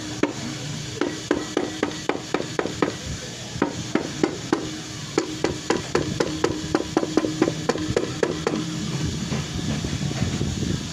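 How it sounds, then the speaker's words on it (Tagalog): A rubber mallet strikes a part of a Supremo 150cc motorcycle engine during teardown, a series of dull, quick knocks in bursts over a constant background hiss, close by and with no talking. "Ngayon gumamit tayo ng rubber mallet."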